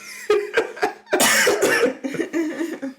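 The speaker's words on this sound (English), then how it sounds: "Don't be coughing all on the potty" A few sharp, dry coughs in quick succession, followed by a longer rough bout of coughing and throat clearing, close and fairly loud.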